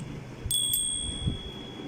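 A hand bell rings out at a political speech, one bright metallic ring with a second strike ringing on briefly, close and fairly faint.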